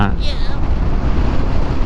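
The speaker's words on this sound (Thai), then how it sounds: "โอ้โหลมแรงมากทุกคน" Strong wind gusts buffet the microphone outdoors beside a road in Amata City, Chonburi, a loud continuous low roar and rumble, with a voice briefly at the start.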